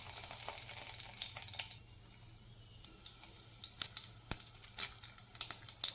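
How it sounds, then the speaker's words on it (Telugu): About a spoon of oil heats in a pan for a tempering of garlic, cumin, mustard seeds, dried red chilli and curry leaves, giving a faint, soft sizzle with scattered close crackles and pops. "తర్వాత ఇందులోకి మనము పోపుని యాడ్ చేద్దాం."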